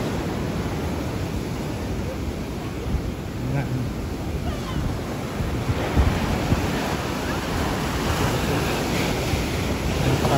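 Steady roar of ocean surf with waves washing in continuously, mixed with wind buffeting the microphone and faint voices in the background.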